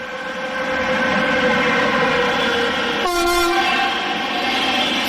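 A Siemens Vectron (Beacon) locomotive hauls the InterCity Odra train from Kraków to Berlin through a station, giving a loud continuous rumble and rail noise. A short horn blast sounds about midway.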